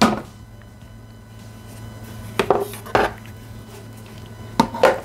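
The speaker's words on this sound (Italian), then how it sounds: "Posizionare il varoma con le patate." A Varoma steaming basket holding potatoes being set onto a Thermomix TM6/TM5/TM31 in a kitchen, heard as a few sharp plastic and metal clatters and knocks in two bursts over a low steady hum.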